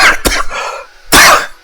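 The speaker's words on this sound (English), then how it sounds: "sorry, I coughed a bit." A person coughs twice, a short hack followed after a pause by a louder, harsher second cough, close up with no talking.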